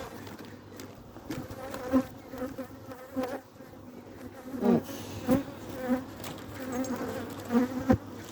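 Honey bees hum and buzz close by at a weak hive in a busy, continuous drone, with a brief spoken word and some handling noises.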